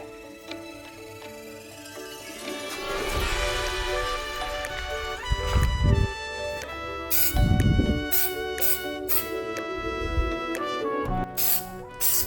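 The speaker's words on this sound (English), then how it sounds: "The tip of these Hyper cans are a little bit tougher to push down." A Hyper Dip aerosol can sprays onto the grill of an Audi Q7/SQ7 in several short hissing bursts amid background music.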